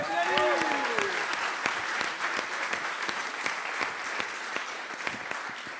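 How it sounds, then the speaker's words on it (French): Applause for two finalists at a Paris coding bootcamp demo day, moderately loud and steady throughout, with a brief voice and cheer audible near the start. "On peut les applaudir"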